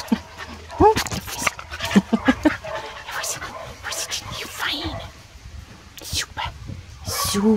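A dog whimpers and gives small yips and snuffles close by, with clicks and shuffling movement, while a person speaks softly over it.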